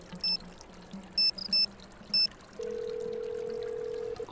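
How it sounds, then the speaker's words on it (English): Phone in the Nancy Drew game Shadow at the Water's Edge: several short electronic keypad beeps as a number is dialed, then a long steady ringing tone, close and clean with no talk. "Tell you what, before we do anything else, while we're on the phone, let's call Savannah."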